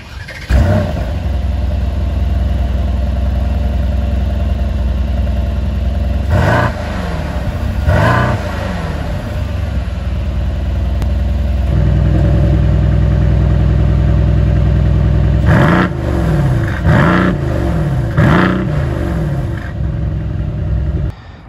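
A blacked-out 2021 Mercedes-AMG GLC 63 Coupe (non-S) V8 engine and exhaust revs repeatedly, with sharp throttle blips climbing and falling over a steady idle rumble, loud and close, in several clustered bursts.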